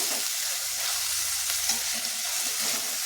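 Chicken gravy masala frying on a low flame, a continuous dense sizzle with soft stirring strokes close by and no voices.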